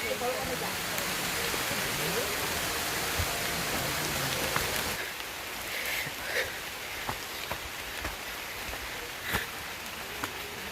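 Heavy rain falls in the hills near the Chakratirtha waterfall in Keonjhar as a dense, continuous hiss. After about five seconds it softens into lighter patter with scattered distinct drops.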